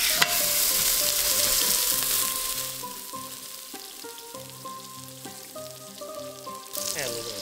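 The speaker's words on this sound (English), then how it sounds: "We're gonna saute this in that hot oil and butter." Beef shank sautés in hot oil and butter, giving a steady, loud sizzle and crackle that fills the whole stretch, with faint sustained tones in the background.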